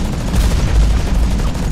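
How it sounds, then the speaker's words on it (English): Machine gun fire from a mech in the video game Hawken: a loud, dense, continuous rattle of rapid shots with a heavy low rumble underneath, filling the whole short burst. "You get some machine gun action in."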